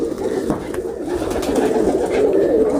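Racing pigeons kept for sale coo in low, murmuring, overlapping calls close by, a soft continuous burble.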